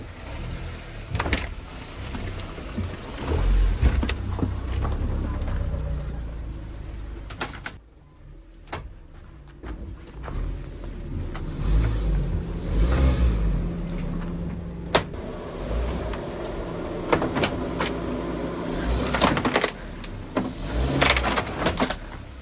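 A small car crawls through narrow underground catacomb tunnels, its engine a low continuous rumble with scraping knocks as it brushes the ceiling supports, and people speak quietly nearby.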